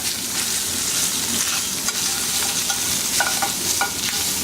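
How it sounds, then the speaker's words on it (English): Garlic and crumbled Italian sausage sizzle steadily in a stainless steel pan with olive oil, a dense continuous fry with occasional stirring scrapes. "See this garlic's getting brown? So now we're going to break this up."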